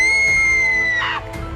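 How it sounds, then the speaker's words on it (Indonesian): A single long, high-pitched scream from an adjoining room, held steady for about a second before breaking off, followed by fainter sounds. "Sebelum dijawab oleh Woseon, tiba-tiba ada teriakan dari kamar sebelah"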